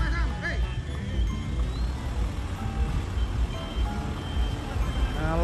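Large decorated swaying Indonesian truck reverses with a faint repeating warning beep over a low rumbling engine, amid background noise and voices.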